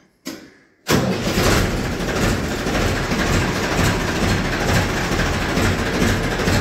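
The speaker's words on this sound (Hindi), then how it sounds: "करते हैं जी ट्रैक्टर को स्टार्ट।" A Ford tractor's diesel engine cranks briefly, catches and roars into a loud, steady chugging idle that continues close by.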